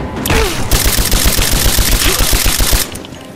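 Rapid automatic gunfire in the Rise of the Tomb Raider video game, a loud, dense burst of close shots in quick rhythm lasting nearly three seconds before cutting off, with no voices.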